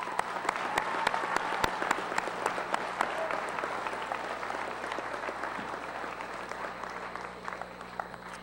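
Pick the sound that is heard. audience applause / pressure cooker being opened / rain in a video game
audience applause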